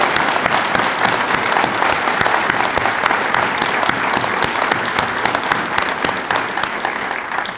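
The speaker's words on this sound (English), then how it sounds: "Could we give Jada a round of applause?" Sustained applause from an audience at a military promotion ceremony, a loud, dense wash of many hands clapping continuously and close, with no speech over it.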